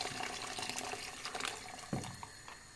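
Water is poured steadily into a pot for bean soup, a soft continuous splashing stream at moderate distance with a small gulp near the end.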